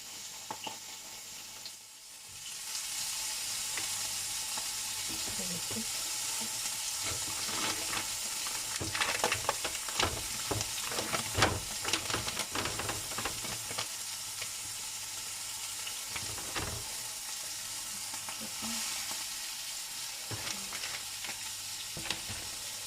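A Halloween monster burger patty fries in a pan with cheese melting on top, giving a steady close sizzle with crackles and occasional scraping stirs throughout, with no talk.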